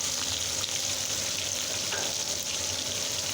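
Hilsa fish frying in a cooking pot, a steady close sizzle and crackle of hot oil running without a break, with no voices.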